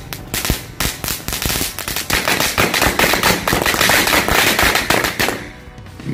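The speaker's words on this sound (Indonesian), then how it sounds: "ini menyalakan mercon Mini Woody Woodpecker guys" A Mini Woody Woodpecker firecracker bursts in a long, dense string of loud, sharp cracks and pops close by, crackling rapidly for several seconds before thinning out at the end.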